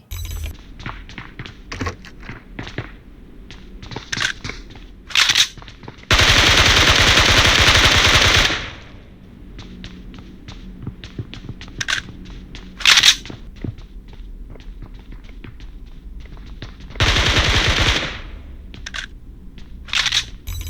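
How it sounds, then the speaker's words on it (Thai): Bursts of rapid gunfire crackle in sharp clusters, broken by two loud sustained blasts of explosive noise, with quieter taps and thuds between them. "ทั้งเสียงเอฟเฟกเสียงระเบิดเสียงปืนนะ ครับรวมทั้งเสียงในเกมเองแทบจะ"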